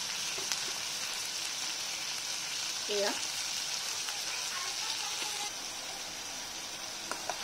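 Soft, steady sizzle of frying in a pan while cooking butter fish gravy with mustard and poppy seed, a quiet continuous hiss with faint stirring clicks and a brief spoken word.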